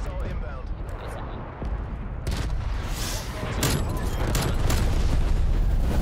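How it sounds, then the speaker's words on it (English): A cruise missile strike in Call of Duty Cold War multiplayer erupts into a roaring barrage of explosions and gunfire that swells louder through the end, with player voices underneath. "Cruise missile inbound."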